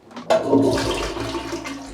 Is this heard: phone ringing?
no